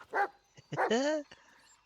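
A dog barks in a game set in dark woods, two or three close yelping barks with a whining tail, mixed with someone speaking German.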